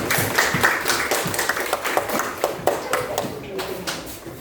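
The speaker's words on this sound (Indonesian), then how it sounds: "Tepuk tangan untuk kelompok 4." Classroom audience claps for a student group, a scattered burst of hand claps that builds and then thins out over a few seconds, with voices heard among the clapping.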